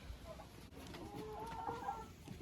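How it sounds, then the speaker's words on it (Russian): Older hens of mixed ages cluck softly in a backyard run, low broken calls over a steady murmur of farmyard noise, with no talk. "Это мои старые куры разных возрастов."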